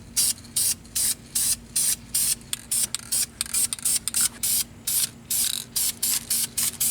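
A spray paint can hisses in about twenty short, evenly spaced bursts while laying a light coat on car brake calipers, close and alone.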